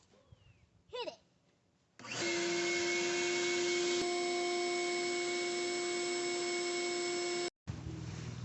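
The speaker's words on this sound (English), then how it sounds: "We're gonna use the vacuum cleaner." A vacuum cleaner, pressed into service as a pump while installing a Goalrilla basketball hoop, roars on loudly and steadily with a high whine for about five seconds, then cuts off abruptly after a brief voice.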